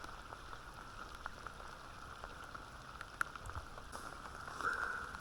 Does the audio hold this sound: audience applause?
no